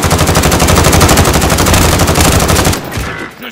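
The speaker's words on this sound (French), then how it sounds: "Je subis des tirs." Rapid, sustained automatic gunfire from a Warzone match rattles loudly and continuously for most of the clip, then cuts out abruptly near the end, leaving a quieter tail.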